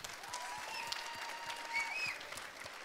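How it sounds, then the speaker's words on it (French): Audience applause at the Chatons d'Or 2018 award ceremony: a soft, even wash of clapping from a crowd, distant and faint, with a little tonal background noise running under it. "On peut l'applaudir."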